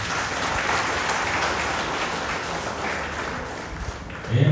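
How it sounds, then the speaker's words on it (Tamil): Audience applause at a sermon in a Sivan temple in Zurich, a steady broadband patter of many hands clapping together that holds evenly throughout and swells slightly louder at the very end. "தயவு செய்து ஒரு கரகோஷம் செய்து"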